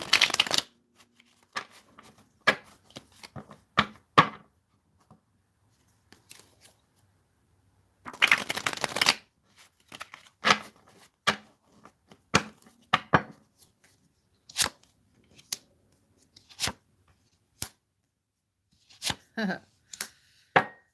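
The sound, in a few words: shuffling playing cards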